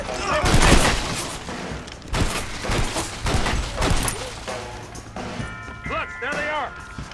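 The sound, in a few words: gunfire from a gun in the video game Red Dead Redemption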